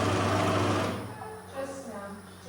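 A home sewing machine stitches fabric for a pair of pants, a loud whirring burst at the start that drops away into a quieter hum, with people talking over it.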